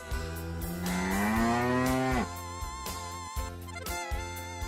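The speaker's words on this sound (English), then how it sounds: "Cow." A long, drawn-out cow moo rises and swells over looping cheerful music, then fades as the melody carries on alone.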